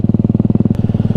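A motorcycle on an adventure ride, with a throttle cable that had come loose, idles close by with a steady, fast, loud thumping pulse and no voices.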